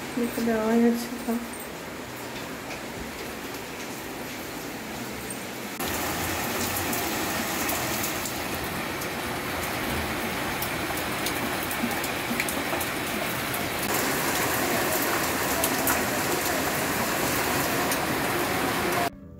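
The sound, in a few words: heavy rain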